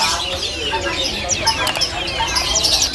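Caged songbirds at an Indonesian bird market give busy overlapping chirps and short calls, with some cluck-like notes and a few sharp clicks, fairly close and steady throughout.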